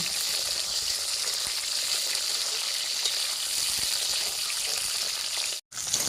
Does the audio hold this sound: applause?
no